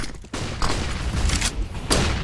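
A dense, close barrage of gunfire and explosive blasts in a CS:GO match, with bursts and booms rolling almost without pause.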